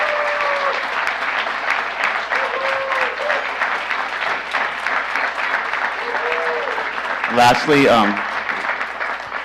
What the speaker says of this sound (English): we get a round of applause for all of you guys.